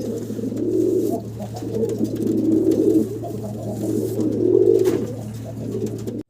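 A pair of black Baghdadi homer pigeons coo nearby in repeated rolling, throaty phrases over a constant low hum.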